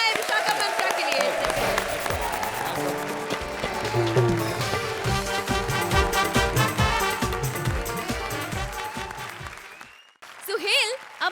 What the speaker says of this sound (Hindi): जोरदार तालियां हो जाए विशाखा मंत्रा के लिए